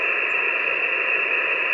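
Amateur radio reception swamped by electrical noise, a steady loud hiss of static with a constant droning tone running unchanged throughout and no voice breaking through.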